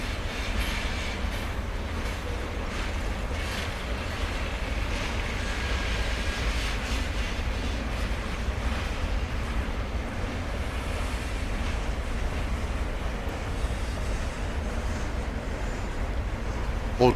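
A CSX freight train rolls along the eastbound track over an old culvert at Lander, Maryland, beside the C&O Canal, giving a steady, continuous low rumble with wind-like wash that holds even throughout.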